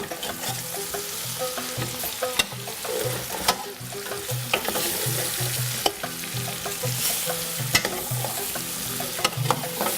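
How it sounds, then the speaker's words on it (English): Onions fry and brown in a pan for a Yemeni dish, a steady close sizzle broken by repeated scraping stirs of a utensil against the pan, no voices. "just wait till the onions have browned"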